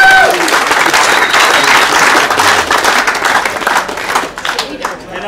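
Loud crowd applause at an open burnout presentation at a motor festival, thick and steady before thinning into scattered claps toward the end, with an amplified voice over it.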